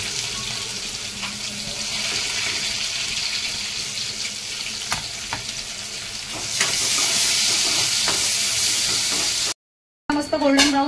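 Chopped onions frying in hot oil with cumin and curry leaves, a steady bright sizzle that rises and grows louder partway through, with light stirring clinks and a brief break near the end.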